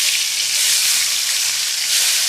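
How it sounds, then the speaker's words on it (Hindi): Loud, bright sizzling crackles steadily throughout as hot oil tempering is poured into cooked chana dal, with no voices. "जो दाल पके थे उसमें कर देंगे तड़का शामिल"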